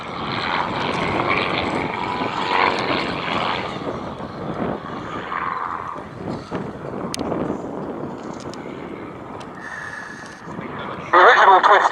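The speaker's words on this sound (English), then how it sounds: "original Twister had an engine producing just 80 horsepower from its Jabiru power plant" Twister aerobatic planes with 80-horsepower Jabiru engines flying tight formation and barrel rolls at an airshow, a steady distant propeller drone under continuous commentary.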